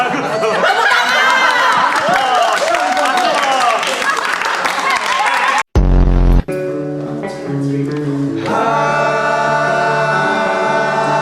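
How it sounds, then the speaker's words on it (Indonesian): A live audience claps and cheers at a choir singing-talent show. The crowd noise is dense and lively with chatter mixed in, then breaks off abruptly, and music follows. "Tepuk tangan."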